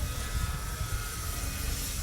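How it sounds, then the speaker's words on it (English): A camera drone flies high in the air over a bayside pier, its steady buzzing rotor hum continuous and fairly loud with a constant engine-like drone and no talk. "I have the drone pretty high in the air"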